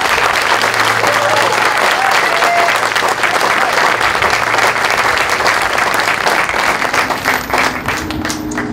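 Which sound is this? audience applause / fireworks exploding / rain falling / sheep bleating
audience applause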